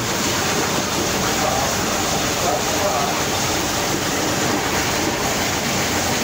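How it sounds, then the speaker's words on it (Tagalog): Heavy rain pours in a steady, loud, broadband roar outdoors in Zamboanga City during a fishing outing, a constant wash with no pauses and no break in intensity. "Ang lakas ng ulan."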